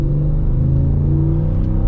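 A 2024 Ford F-150 Tremor pickup's non-turbo Coyote V8 hums and revs steadily while accelerating, a low, rumbling drone, close and continuous, with no talking over it.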